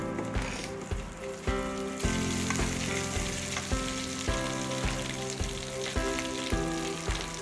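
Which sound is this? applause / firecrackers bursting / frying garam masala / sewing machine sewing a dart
frying garam masala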